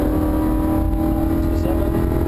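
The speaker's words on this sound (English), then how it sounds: "now pick up the throttle again, and building the speed out to the green" Lamborghini Huracan engine pulling under throttle on a race track, a loud continuous close-up roar with a steady drone, heard briefly without speech.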